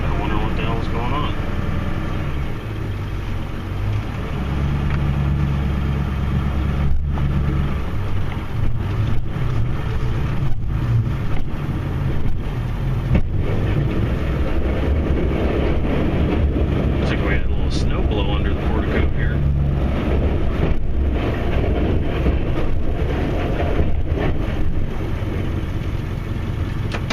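A plow truck's tires spin in snow while the truck is in 2-wheel drive, heard as a steady low engine rumble with broadband wind-like noise that runs nonstop.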